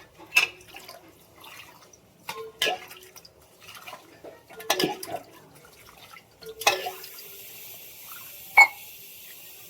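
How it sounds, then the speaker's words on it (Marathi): Rice being washed in water at home for a vegetable pulao, giving scattered splashes, drips and clinks of a vessel in a quiet setting, with several separate bursts of sloshing. "तांदूळ धुवून घेऊया आपण मस्तपैकी"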